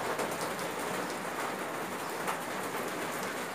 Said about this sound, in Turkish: Ama yağmur falan değmeye. Şöyle yağmur.